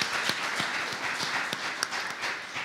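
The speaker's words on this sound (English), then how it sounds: "Let's give her a round of applause, too." Audience applause at a city's State of the City event, steady clapping from a crowd at moderate volume, continuous and fairly close.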